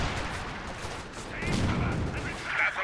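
An artillery barrage in the World War II strategy game Company of Heroes 2 comes as a dense rumble of distant explosions and gunfire, with a commentator talking over it.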